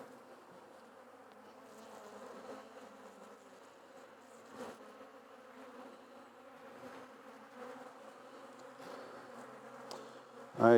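A dense, steady drone of many honey bees buzzing in a hive while a nucleus colony's frames are installed, close and continuous, with occasional soft knocks and a louder thump at the end.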